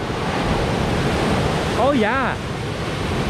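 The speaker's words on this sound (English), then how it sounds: "Oh, the waves are kind of pumping." Ocean waves break and wash on a beach in a broad, steady roar of surf with wind noise, while someone briefly speaks over it.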